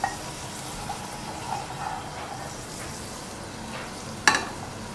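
A cacio e pepe risotto cooks gently in a pan, giving a soft, steady sizzle with faint stirring and one brief clink of a utensil near the end, with no talking.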